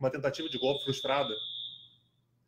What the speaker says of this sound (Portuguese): Isso é um alarme de incêndio que está tocando aqui.